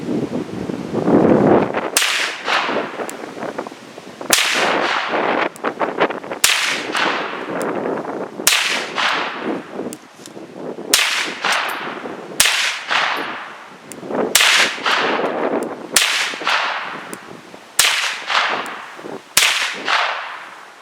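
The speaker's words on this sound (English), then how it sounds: "We're going for a 10-shot group." Ten sharp, loud gunshots from a Ruger PC Carbine 9mm firing cheap steel-cased ammunition on an outdoor range, spaced about two seconds apart, each crack followed by a short echoing decay.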